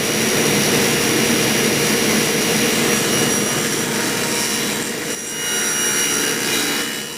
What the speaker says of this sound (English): I'll just run that through the saw and cut the waist off.